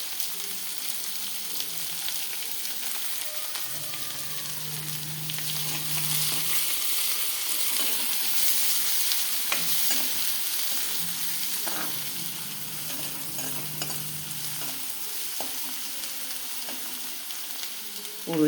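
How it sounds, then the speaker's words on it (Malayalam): Chopped onion sautéing in hot oil after mustard seeds have spluttered, a steady bright sizzle throughout with occasional stirring scrapes, close and continuous with no talking. "ഈ കടുക് അങ്ങോട്ട് പൊട്ടിയപ്പോൾ നമ്മൾ ഉള്ളി അരിഞ്ഞ് വെച്ച് അങ്ങോട്ട് ഇടുകയാണേ"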